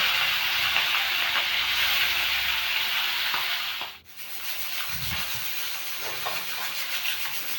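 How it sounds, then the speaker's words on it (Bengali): Fish frying in hot oil, a continuous dense hiss of sizzling that dips briefly midway and then resumes, close and steady, with no talking. "তেল গরম হয়ে গেছে, এবার মাছগুলো ভেজে নেব।"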